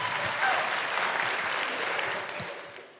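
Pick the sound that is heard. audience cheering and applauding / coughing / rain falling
audience cheering and applauding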